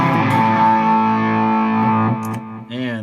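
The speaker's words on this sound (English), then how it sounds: "And that delay sounds horrible." Electric guitar with high gain runs through a delay effect on a Line 6 HX Effects processor, giving a sustained distorted chord that echoes and smears for about two seconds, then a brief wavering bent note, close and loud.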